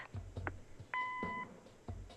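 A single short electronic voicemail beep in a video game, clear and steady, amid soft clicks and faint background sounds.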